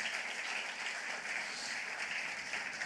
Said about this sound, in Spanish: Le da ese aplauso fuerte a Él.